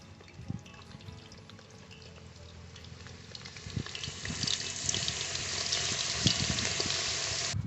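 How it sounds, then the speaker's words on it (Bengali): Potato pieces for mutton kosha frying in well-heated oil in a village kitchen, a sizzle that swells and grows louder and hissier over several seconds, with a few knocks near the start and no voices. "মাটনের জন্য আলুগুলোকে আমরা ভেজে নেব।"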